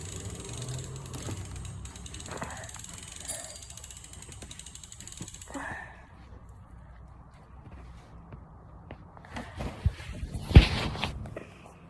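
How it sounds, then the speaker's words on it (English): A fishing reel's drag being loosened while rigging a shark line, a rapid clicking ratchet buzz for several seconds, then quieter handling knocks and a couple of louder bumps near the end, close and fairly soft. "let me just loosen the drag"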